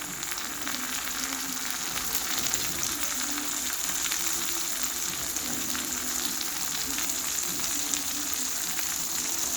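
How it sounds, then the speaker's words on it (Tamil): Chopped tomatoes sautéing with onions in a hot pan for chicken sukka, a steady close sizzle and hiss of frying that runs evenly throughout with no talk. "தக்காளி பழத்தை வெங்காயம் நல்லா வதங்கின பிறகு தக்காளி பழத்தை உள்ளுக்கு போடுறோம்"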